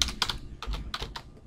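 Computer keyboard typing while entering an effect name in After Effects: quick bursts of close, crisp key clicks in irregular clusters, clear and alone with no talk.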